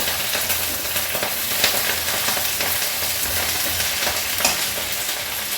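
Greens steam and sizzle steadily in a covered pan, a constant loud hiss with no talking.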